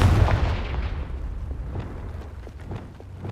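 A Confringo fire spell explodes in the Hogwarts Legacy video game: a loud, low boom opens the clip, then a rumbling burst decays slowly under faint crackling.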